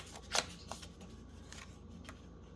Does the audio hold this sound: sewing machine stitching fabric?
no